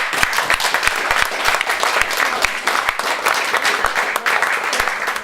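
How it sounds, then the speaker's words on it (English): Sustained applause from a club audience after a jazz composition played by a vibraphonist's band in London, steady dense clapping with no speech, fairly close and loud throughout. "I think that deserves a round of applause."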